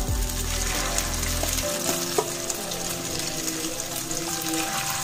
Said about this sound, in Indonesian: Kita mau goreng bumbunya yang bikin enak banget tuh ini ya.